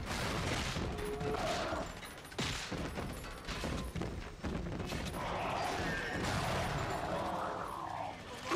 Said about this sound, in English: He's shooting right in front of the Rumbler.